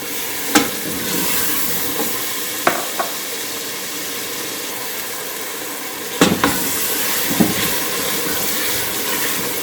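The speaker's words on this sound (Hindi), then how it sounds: "अब हम मसाले को अच्छी तरह भूनेंगे तकरीबन 3 से 4 मिनट तक।" Masala for Lahori chana frying in a pan, a loud continuous sizzle with a few sharp spoon knocks against the pan scattered through, close and with no one talking.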